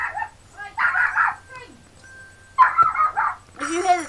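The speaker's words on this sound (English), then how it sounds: "If you hear the dog in the background," Dog barking and yipping in the background indoors, several short bursts of barks and whimpers in a few quick clusters, fairly clear with talk nearby.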